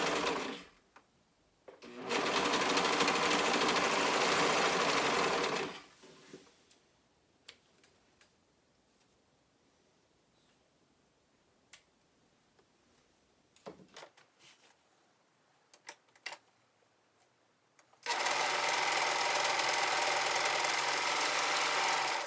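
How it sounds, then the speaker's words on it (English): Serger stitching and trimming garment seams with a 5/8 seam allowance, loud even whirring runs at the start and end separated by a long quiet stretch of small clicks and handling noises. "what I love about my serger is that it cuts off all my seams so I don't have to later."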